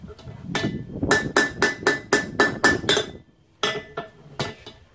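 Metal hammer strikes rounding off a rivet on forged blacksmith tongs: a quick run of about ten bright, ringing clinks in steady rhythm, a short pause, then a few more blows, close and clear with no talking.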